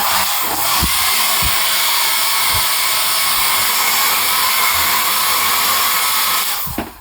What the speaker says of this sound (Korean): 드라이기도 있는데 어, 드라이기는 굉장히 적어요.